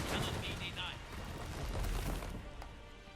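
Battlefield gunfire and heavy booms from the strategy video game Iron Harvest, a dense rumbling din of shots and explosions with brief sharp bursts, rolling on continuously at a moderate distance.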